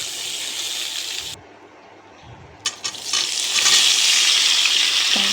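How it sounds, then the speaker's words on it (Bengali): Lightly boiled papaya and banana stem pieces sizzle in hot oil in a pan, with a steady hiss and short pauses, then louder frying as the vegetables are stirred. "পেঁপে, ডাঁটা সব সবজিগুলো একটু ভালোভাবে ভাজতে হবে।"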